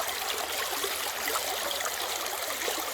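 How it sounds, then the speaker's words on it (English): Water rushes steadily through a dream net sluice set in a stream, a close, continuous broadband hiss and gurgle with no pauses or voices. "we're going to run this here dream net sluice"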